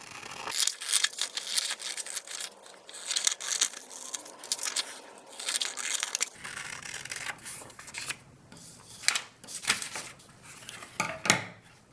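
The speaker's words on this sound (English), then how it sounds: "All you have to do is grab a pair of scissors and cut out your squares." Scissors snip through printer paper while cutting out origami squares, giving a close, irregular run of crisp cuts, rustles and crinkles, with no talking.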